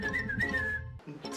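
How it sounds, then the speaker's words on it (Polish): Someone whistles in a hide-and-seek game, a clear, wavering tone held for most of a second, then a short broken follow-up; fairly faint and heard alone. "Gwizdzą na mnie, słyszysz to?"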